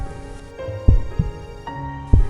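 A heartbeat sound effect under a dark, droning musical bed: deep thumps arrive in paired beats, spaced about a second apart, fairly loud and close.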